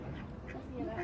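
A few nasal duck quacks sound close by in quick succession, mixed with people talking.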